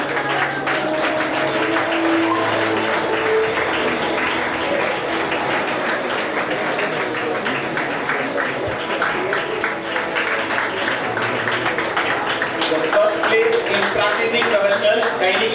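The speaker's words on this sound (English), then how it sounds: "Practicing professionals, kindly give a big clap" Conference audience at an audiology and speech-language pathology event giving a big round of applause, dense sustained clapping from many hands filling the hall with faint voices beneath.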